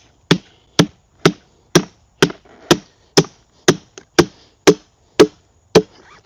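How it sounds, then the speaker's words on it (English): A brick chisel is struck repeatedly while cutting through foam down to wood, about a dozen sharp, evenly spaced knocks, close and loud with quiet between blows. "this is a brick chisel, but it gets the job done."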